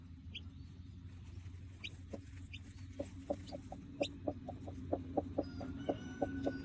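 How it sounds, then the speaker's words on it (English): Newly hatched chicks peep in a quiet indoor spot, a run of short, evenly spaced high chirps that grows more regular and a little louder toward the end over a low background hum. "at least we've got chirping"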